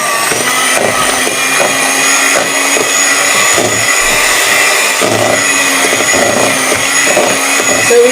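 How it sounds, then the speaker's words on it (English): An electric mixer creams margarine for a lemon frosting, running as a loud, steady, close motor whir with a slightly uneven churning rhythm throughout. "So we can cream like this until your margarine is nice and creamy and smooth."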